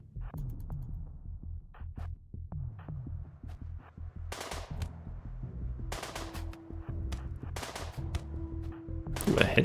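Sparse, light gunshots from a firearm in the sci-fi colony game Rimworld: Odyssey, short ticking pops at irregular intervals over a low humming background, with a few sharper louder cracks later on.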